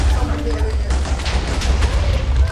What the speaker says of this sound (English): there are explosions everywhere